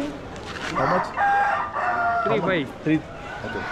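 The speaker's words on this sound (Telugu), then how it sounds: "ఇటు కూడా ఉన్నాయండి పందెం కోళ్ళు" Fighting roosters at a crowded pet market on Broadway in Chennai crow loudly in a few drawn-out calls, with other fowl clucking and market murmur around them.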